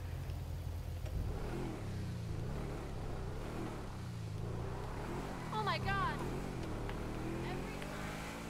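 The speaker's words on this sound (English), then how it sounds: "The engine sounds amazing." A car engine in Grand Theft Auto V revs and accelerates, a mid-pitched growl that rises and falls under ongoing talk, with a brief squeal partway through.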